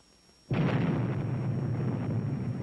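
An atomic bomb test explosion from the 1952 Tumbler-Snapper series erupts suddenly after a moment of quiet, a single loud blast that holds as a sustained, dense roar to the end.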